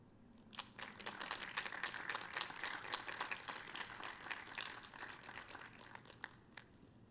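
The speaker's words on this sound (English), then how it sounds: "give a round of applause to all the family and friends" Scattered, quiet clapping during a graduation recognition ceremony, a thin patter of hands applauding family and friends, sounding faint and distant throughout.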